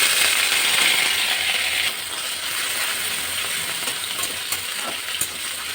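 Ginger and green chili paste hits hot oil, a bright close sizzle with fine crackling that eases a little after two seconds, then keeps hissing with small pops and ticks.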